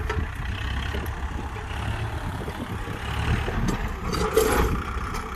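New Kubota MU4902 tractor engine idling at a work site, a low steady rumble that holds at a fairly even level with a slight rise near the end, no talk over it.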